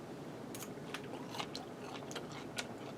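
Soft crunchy bites and chewing of almond-crusted chicken, a handful of crisp crackles scattered over about three seconds, close and fairly quiet.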